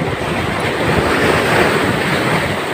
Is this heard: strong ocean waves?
yes